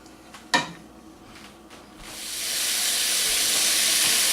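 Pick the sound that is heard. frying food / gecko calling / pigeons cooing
frying food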